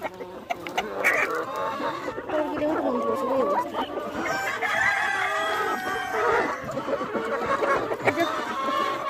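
On a farm, a flock of hens clucks steadily while a rooster crows, loud and near, with a person speaking faintly among the birds.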